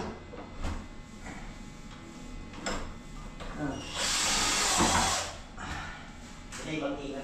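A power drill runs during tile work, a brief harsh whirring burst of about a second in the middle, surrounded by people talking and scattered clatter.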